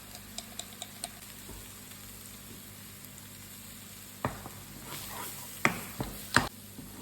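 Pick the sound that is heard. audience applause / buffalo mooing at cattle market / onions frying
onions frying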